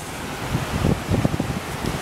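Wind buffets the microphone over soft surf on an island shoreline with palm trees, rustling and swelling in uneven gusts, close and fairly loud with no talking.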